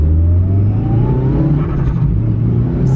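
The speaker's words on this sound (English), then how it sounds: "I'll do like a little first through, just like a little quick spool pull so you can hear what I'm talking about." Mitsubishi Evo 5 turbo car making a quick first-gear pull, a loud steady engine drone with rising turbo spool whine close to the microphone, continuous throughout with no talking.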